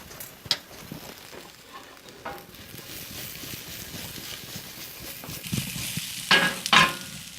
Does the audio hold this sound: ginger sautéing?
yes